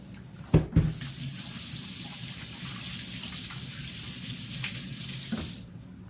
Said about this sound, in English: So, now, I wash the hands, yeah?